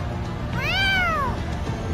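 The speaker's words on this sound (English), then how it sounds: "Meow." A single drawn-out cat meow, clear and close, rising then falling over a low background hum.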